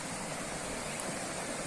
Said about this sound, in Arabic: نسمع خرير المياه